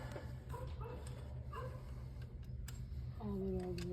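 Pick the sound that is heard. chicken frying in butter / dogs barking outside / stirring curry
dogs barking outside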